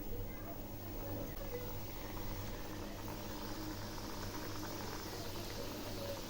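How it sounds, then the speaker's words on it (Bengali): Puli pitha, a Bengali stuffed dumpling, frying in hot oil in a wok, giving a steady, close bubbling sizzle that holds evenly throughout with a faint low hum beneath. "তেল গরম হয়েছে। এখন পিঠাগুলো ছেড়ে দিচ্ছি।"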